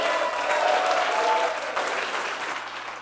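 Guests at the South Bronx United 10th anniversary benefit applaud in a loud, dense burst of clapping that holds steady and then slowly tapers off, with no speech over it.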